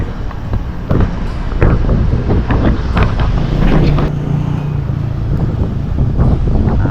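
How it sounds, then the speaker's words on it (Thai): Strong wind buffets the microphone beside a canal while fishing after rain, a loud continuous roar with gusty rumbling and bursts of rustling from trees, close and alone without speech. "ลมแรงมากครับตอนนี้ดูต้นไม้"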